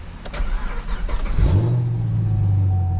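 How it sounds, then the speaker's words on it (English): A Chevrolet Camaro engine cranks over near the 1.4 s mark and catches, settling into a steady, loud idle after a short burst of starter noise and background clatter. "make sure to crank the car up."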